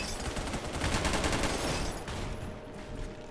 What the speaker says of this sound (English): Oh, who shot at me that time?